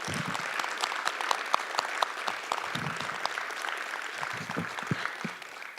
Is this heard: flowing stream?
no